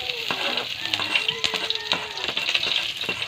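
Garlic and onion sautéing in a pan for tinola give a steady sizzle, broken by repeated scraping strokes of a spoon and light clinks against the metal.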